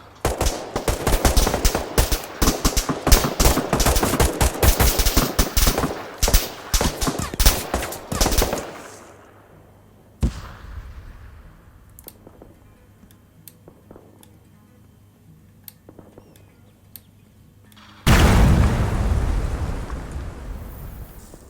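Dense automatic gunfire and explosions in a firefight in Arma 3, heavily modded with Blastcore Phoenix and JSRS Dragonfyre. The rapid volleys first thin out to scattered distant shots, then a loud roaring blast closes the clip.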